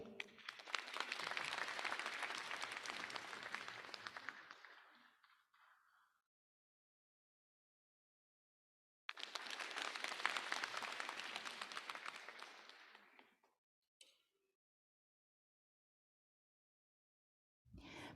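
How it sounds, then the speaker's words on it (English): Two long bursts of audience applause at an opening ceremony for committee members, each swelling and fading over several seconds with a quiet gap between, moderately distant, with no talk over it. "Please give a big round of applause to committee members."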